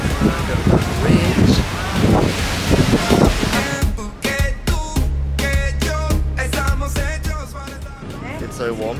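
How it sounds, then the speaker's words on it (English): Strong wind buffeting the microphone in rough gusts near the World Trade Center in Barcelona, with a voice talking through the rumble. "It's very windy."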